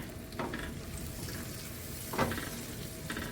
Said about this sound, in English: we're just gonna saute these veggies until the onion gets a little translucent